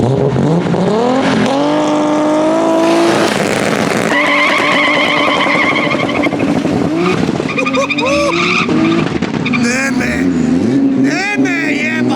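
A Toyota Supra drag racing car at a drag race event in Lesce, with loud screeching tires and a roaring, rising engine filling the whole stretch, the sound staying close and intense throughout.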